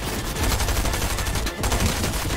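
Dense, sustained gunfire rattles continuously throughout, loud and close with a rapid burst texture and a brief dip midway, as shots are fired at the player in a Fortnite-style game.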